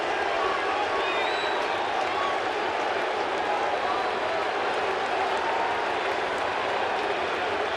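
Steady roar of a big baseball stadium crowd during a Yankees vs. Mets game, a dense continuous wash of noise with no distinct voices standing out, loud and even throughout.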